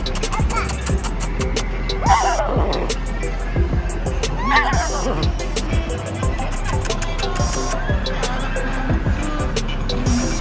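A horse in a park whinnies twice, rising squealing calls heard over steady background noise, clicking and people talking throughout.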